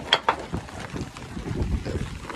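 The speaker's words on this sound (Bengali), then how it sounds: "পাশে একটা নৌকা জাল টানছে" A fishing boat hauls in its net on a river in steady rain, with wind buffeting and low rumbling water noise throughout, opened by a couple of sharp knocks close by.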